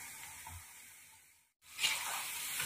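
Potato fingers frying in hot oil, a soft steady sizzle that briefly cuts out and then returns a little brighter, with no voices.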